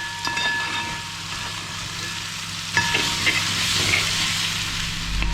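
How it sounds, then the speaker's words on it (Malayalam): Chicken varattiyathu, Kerala style, sautéing on a high flame, a loud continuous sizzle close by, with stirring scrapes and a brief clatter of the spatula against the pan, no voices. "ഫ്ലെയിം ഹൈ ആക്കിയതിന് ശേഷമാണ് ഞാനിങ്ങനെ നന്നായിട്ട് വഴറ്റിയെടുത്തത്."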